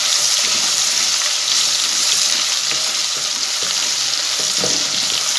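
Potato and eggplant sabzi fries in a pan with ginger paste added, giving a loud, steady sizzle with occasional stirring scrapes throughout, and no voices.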